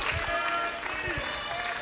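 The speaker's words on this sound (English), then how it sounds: "Nice round of applause for Bambi" Audience applause at a women's wrestling event, a steady wash of clapping from a crowd with voices mixed in underneath, filling the short moment at an even level.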